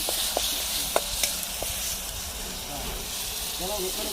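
Green masala paste of ground garlic, ginger, coconut and coriander frying in a pan gives a steady, close hiss of sizzling, with a few sharp stirring clicks and a faint voice in the background.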